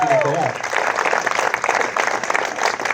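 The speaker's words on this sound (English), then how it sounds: "Let's have a big round of applause for Nicole." Wedding reception guests applauding after a speech, a full burst of clapping filling the room for the whole span, loud and close; a voice briefly trails off at the very start before the applause takes over.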